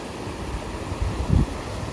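A rushing river runs through a creek crossing on the Pacific Crest Trail, heard as a steady broadband wash with a few thumping low swells. No one speaks over the rushing water.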